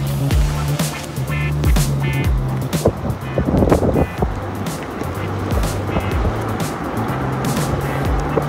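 A Rivian R1S rolls along on a compressed spare tire, a steady low road rumble and tire noise with some knocks and wind inside the cabin, no talk.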